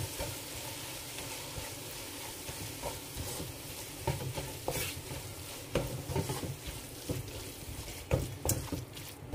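Ginger garlic paste, ground spices, curry leaves and coriander leaves sauté in hot oil for a fried chicken biryani masala: a soft, continuous sizzle with repeated stirring scrapes and light clinks of the spoon against the pan, fairly quiet and without talk.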